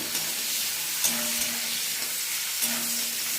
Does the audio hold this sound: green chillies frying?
yes